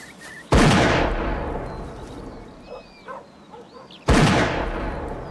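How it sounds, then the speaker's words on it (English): Two loud, close shotgun blasts go off on a country shooting outing, about three and a half seconds apart, each with a long rolling decay. Faint bird calls are heard between the shots. "Next morning, I went out shooting with Ethelred."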